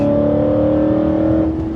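A BMW E92 M3 engine revs hard, its intake and exhaust together making a loud, sustained, steady howl heard from inside the car, easing slightly near the end.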